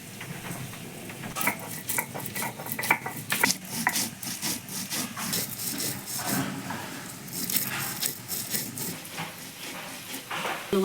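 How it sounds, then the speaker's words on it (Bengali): Fried spices being ground by hand on a grinding stone, with repeated rough rubbing and scraping strokes in an uneven rhythm, close by and moderately loud, no voices. "ভাজা মশলাগুলো এবার বেটে নেব।"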